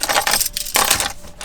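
Keys for a Lexus LX570 SUV jangle and clink in a couple of bright metallic bursts, close and alone with no voices.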